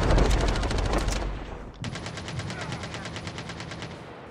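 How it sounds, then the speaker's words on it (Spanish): Rapid automatic gunfire from the mobile shooter game Call of Duty Mobile, a loud sustained burst that breaks off briefly and then resumes as a steady rattling stream of shots. "Me pegó unos tiros, ve."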